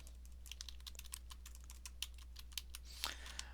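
Rapid typing on a computer keyboard, a steady run of light, close key clicks with a slightly louder burst near the end, heard alone over a low background hum.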